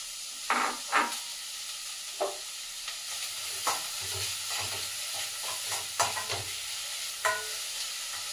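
Chopped mushrooms dropped into a pan of fried ginger for soup, a soft sizzle and hiss with a handful of distinct stirring clatters, fairly quiet and close, no voices.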